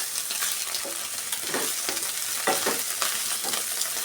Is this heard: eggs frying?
yes